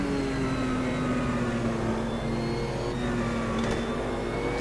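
A Porsche 962 Group C race car engine drones steadily with a low harmonic hum and slowly shifting pitch, continuous and moderately loud, with no talking.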